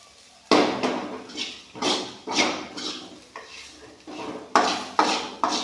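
Food being stirred quickly in a metal pan on the stove, a series of loud close scraping and clanking strokes in an uneven rhythm, each followed by a brief pause.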